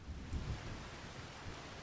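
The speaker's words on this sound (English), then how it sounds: "But we need this rain to go away." Rain and rolling thunder in the Farming Simulator 25 video game, a steady low rumble with a soft wash of rainfall throughout, fairly quiet.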